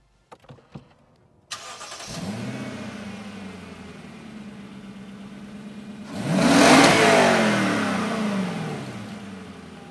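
A 2014 Lexus LS460 V8 cranks and fires up, settles into a steady idle, then rises into a loud, close rev before easing back down.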